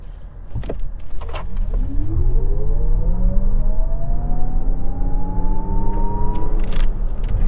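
A 2023 Lexus RZ450e electric SUV accelerates hard in sport mode, its sound enhancer producing a smooth synthetic-sounding whine climbing in pitch over a steady road rumble.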